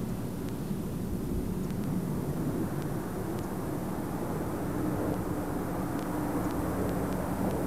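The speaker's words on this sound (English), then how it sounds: "Endeavour rolling out on runway 15 at the Kennedy Space Center" Space Shuttle Endeavour rolls out on the runway at Kennedy Space Center after landing with its drag chute deployed. A steady, broad roar of wind and rumble continues evenly without a break.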